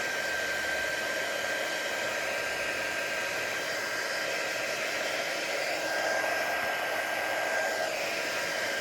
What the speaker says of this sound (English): take my heat embossing tool, just kind of run that over some of these and get those to dry